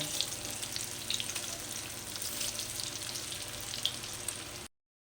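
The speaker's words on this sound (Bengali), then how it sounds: "এক পিঠ হয়ে গেছে আর এক পিঠ আমি উল্টে দিচ্ছি এরকম করে একটু লাল লাল হলেই ভেজে উঠিয়ে নেব" Cabbage and egg fritters fry in hot oil with a steady, close sizzle and crackle that continues without pause until it abruptly cuts off near the end.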